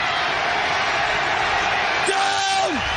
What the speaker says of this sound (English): You hear the crowd come alive here.